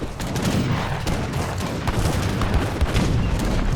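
Portuguese cannons and other artillery in a large Age of Empires 3 battle, a dense barrage of booming shots and rattling gunfire overlapping continuously at close range.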